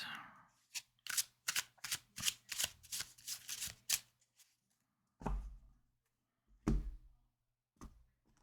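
A deck of tarot cards is shuffled with a quick run of crisp riffling flicks, then a pause and a few separate slaps and taps, close and fairly quiet.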